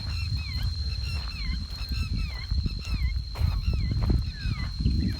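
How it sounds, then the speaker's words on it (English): A large flock of geese honks continuously at an abandoned, unfinished airport on Koh Phangan, with many overlapping calls near and far. "these birds are crazy"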